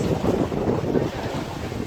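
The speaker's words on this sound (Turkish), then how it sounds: "Rüzgar güzel." Steady wind roar at sea, a low rushing blow with a faint wash of water underneath, no voices.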